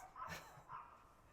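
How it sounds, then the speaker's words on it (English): Dogs give a couple of faint, short barks from a distance, quiet and brief, with no talk over them. "Sorry about the dogs."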